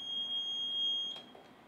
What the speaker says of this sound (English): we're going to start this timer